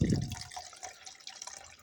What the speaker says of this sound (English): pour in some water